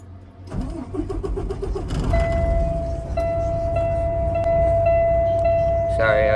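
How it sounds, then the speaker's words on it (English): A semi truck's engine cranks and catches, then settles into a steady low idle with a persistent electronic tone and chimes from the cab, close and loud. "then you're gonna turn on the truck"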